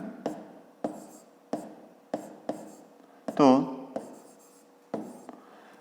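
Pen writing a fifth-grade maths solution by hand, a series of short scratchy strokes in an uneven rhythm, close and quiet, with one brief squeak midway.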